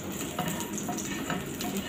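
An onion cooks in a frying pan with butter, making a continuous close sizzle with soft crackles throughout and no talking.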